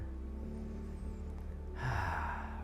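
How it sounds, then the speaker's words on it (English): A single audible inhale during a gentle tai chi flow, arriving near the end of the clip over a soft bed of background music. "Breathing in."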